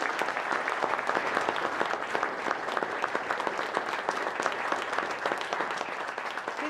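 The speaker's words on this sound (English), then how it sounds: "Please give John a round of applause, please." Sustained audience applause fills a town hall in Claremont, New Hampshire, a dense, even wash of clapping from a crowd, loud and continuous throughout.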